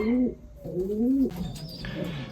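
Racing pigeons in a loft coo loudly and close by, with two long, rolling coos in a row and then softer calls with faint chirps. No one speaks.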